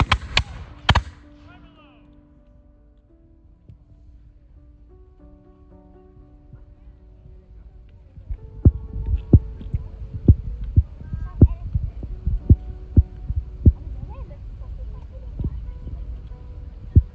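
Revolutionary War reenactors fire a ragged volley of muskets at a Constitution Day reenactment in Nevada City, sharp reports popping irregularly in a quick cluster over crowd hum after a quieter stretch, with shouted commands earlier.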